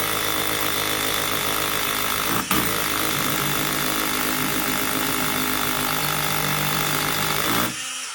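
A Makita rotary hammer drills into masonry with a loud, steady, continuous grinding whir, one brief dip near the middle, then winds down abruptly at the end; no voices are heard.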